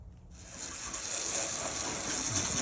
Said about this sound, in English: You can use a regular water hose.